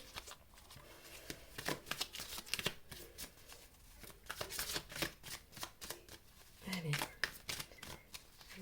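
Tarot cards being shuffled by hand in a run of quick, crisp riffling bursts, fairly close and moderately loud, with a voice speaking over parts of it.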